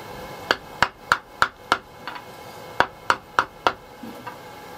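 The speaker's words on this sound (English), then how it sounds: "get a block of wood and a wooden hammer and just straighten it out on the wood" Sharp, evenly spaced knocks of a wooden hammer straightening a blacksmith's knife blade on a wood block, two bursts of about five blows each with a short pause between, close and clear.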